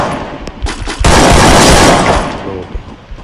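Gunfire in the Free Fire battle royale game, Bermuda map: several sharp shots early, then a loud dense burst of automatic fire for about a second and a half, fading with scattered pops afterward.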